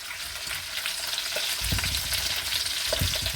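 Oxtail pieces sear in a hot pan, producing a close, crackling sizzle with bursts of popping and a few clunks as the meat is moved, steady throughout with no voices.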